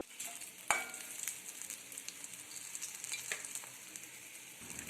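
Mustard seeds, urad dal, garlic paste, dried chillies and curry leaves fry in hot oil for a Tamil poriyal, a steady close sizzle with a sharp spit and crackle near the start and scattered pops throughout.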